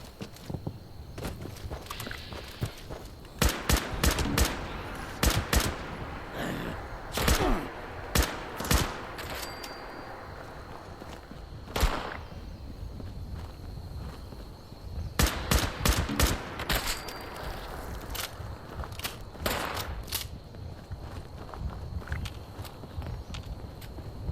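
Combat rifle from Fallout 76 fired indoors at a relay station, with bursts of sharp gunshots in clusters separated by pauses, reverberating loudly through the interior.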